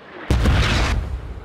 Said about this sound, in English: And smoke mortars inbound.